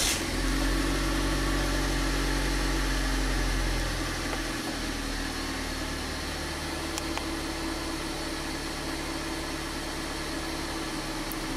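A car engine runs loudly and close at first, then its tone drops and it settles into a steady idle hum.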